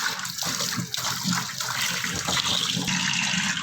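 Water runs steadily over freshly made paneer as it is rinsed to cool it and wash out sourness, a continuous close splashing gush throughout.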